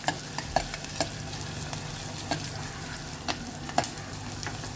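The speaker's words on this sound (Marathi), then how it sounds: "आता आपण ना इथे कांदा टाकून घेऊया। तो ना आपल्याला चांगला ना ब्राऊन होईपर्यंत परतून घ्यायचे तेलात।" Onion fries in hot oil with an even, close sizzle and sharp little clicks and pops scattered throughout.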